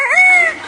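A talking parrot imitates a rooster crowing with one short, loud, close-up call that rises and holds briefly before dropping off.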